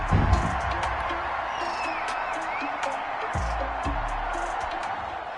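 A steady roar of a large stadium crowd cheering a touchdown in the video game Madden 21, loud and continuous, with an announcer-style voice briefly over it and some low thumps.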